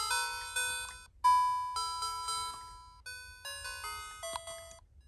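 Musical Christmas lights play a chiming electronic tune, a run of bright bell-like notes that steps down in loudness with each button press before fading lower.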